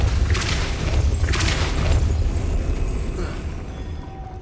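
A Depulso force spell cast in Hogwarts Legacy on PS5 lands as a deep, rumbling boom with two short whooshing bursts near the start, the low rumble fading over a few seconds, with no voices.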